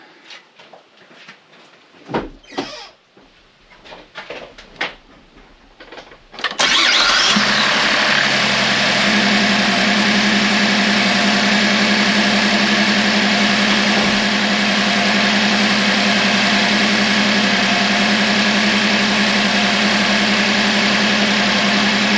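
A 2012-or-later Chevrolet Impala's 3.6 LFX V6, fitted with a new serpentine belt, tensioner and idler pulley, cranks after a few clicks and catches. It settles into a loud, steady idle close by that continues to the end.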